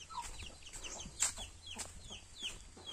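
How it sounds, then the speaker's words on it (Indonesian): A chicken clucking nearby in a backyard garden, with short repeated clucks and soft calls over a quiet outdoor background. "Sini ada ayam juga, guys."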